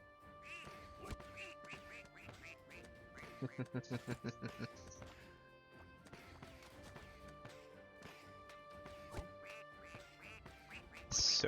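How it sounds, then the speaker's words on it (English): Cartoonish duck quacks from the Rush Royale mobile game come in a quick rhythmic burst of about seven, amid layered game music and effects, with a louder jingle at the end. "So many ducks."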